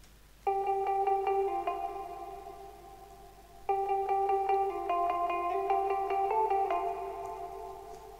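Bright synthetic bell-like melody from the ThinkBack kit's Poolside bank in FL Studio's Arcade, two short repeated phrases of plucked tonal notes over a faint low hum, with no talking.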